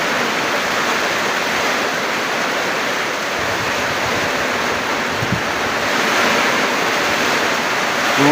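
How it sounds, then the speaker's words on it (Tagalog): Heavy rain pounds down in strong wind as a continuous roaring rush, close and loud. A few faint thumps sit inside the constant downpour, and no one speaks. "Dumadagumdum yung ulan."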